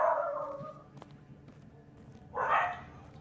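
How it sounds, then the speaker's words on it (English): Two bursts of dog barking, one at the start and another a couple of seconds later, with quiet gaps between. "They just keep on barking and barking and barking."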